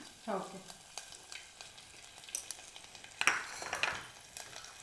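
Ginger and garlic hit hot oil in a pan with a sudden sizzle, then fry steadily as a spoon scrapes and stirs against the metal in close, moderately loud bursts.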